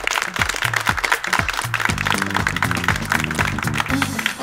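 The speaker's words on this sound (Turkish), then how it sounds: "Kocaman bir alkış." Studio audience applause on a television game show as a couple wins, lively clapping under loud rhythmic music with a pulsing beat, close and energetic throughout.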